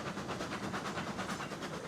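A locomotive called the Betsy coasting in a railroad video game, a steady rhythmic clickety-clack of wheels over rail joints with a soft hiss, moderately close and continuous.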